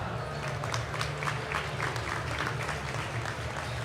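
Audience applause at an onstage event during Food City Family Race Night in Knoxville, a steady wash of many hands clapping throughout, moderately loud with a low hum beneath.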